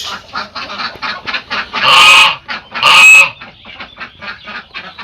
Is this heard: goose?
yes